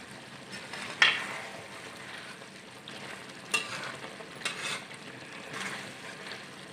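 Street-style chicken karahi with garam masala, cumin, black pepper and green chillies is stir-fried in a wok, giving a quiet steady sizzle broken by occasional metallic scrapes and clicks of the spatula.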